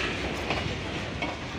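Train noise at Garhwa Road Junction railway platform in India: a steady, dense rumble with clattering wheel texture running through the whole short stretch, loud and continuous with no talk.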